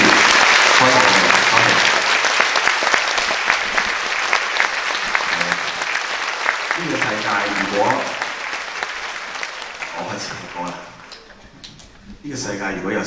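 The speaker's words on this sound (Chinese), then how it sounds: "所以我们都不要吝啬我们的掌声" Audience applause at a charity concert for Angelman syndrome, loud sustained clapping filling the hall that thins and fades near the end before swelling briefly again.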